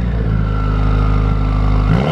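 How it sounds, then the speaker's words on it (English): 2015+ Subaru WRX with a new Tomei Expreme Ti titanium exhaust idling loud on a cold start, a steady throbbing burble up close that dips sharply at the very end. "That's still a loud cold start."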